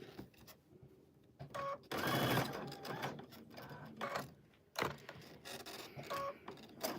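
A home sewing machine runs in short bursts while quilting, its stop-and-start whirring louder for a couple of seconds in the middle and broken by pauses and small clicks.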